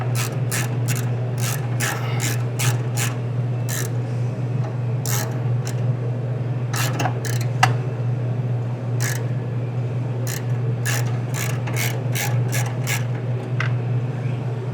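A ratchet wrench tightens a nut on the mass airflow sensor of a 1975 fuel-injected VW Beetle, quick bursts of close clicking strokes in uneven groups over a steady low hum.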